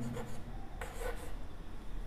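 A marker or chalk scratches across a board in a few short strokes while a geometry problem is being written out, quiet and close, with no talk over it.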